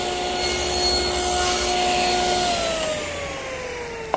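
Table saw cutting a shoulder into a wooden coffee table part guided by a miter gauge and stop block, a loud close motor whine that drops in pitch as the blade spins down, ending with a faint knock.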